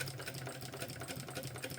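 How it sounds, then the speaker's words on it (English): A sewing machine stitches together the exterior and lining of a mini backpack, running in a steady, continuous mechanical whir at close range with no voices over it. "Is the sewing machine scaring you?"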